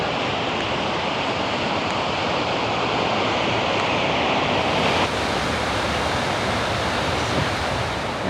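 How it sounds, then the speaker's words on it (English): Glacier meltwater waterfall at Briksdal Glacier in Norway roars as a dense, steady rush of falling water, loud and continuous throughout without pause, with no voices. "And you can hear the water coming down too."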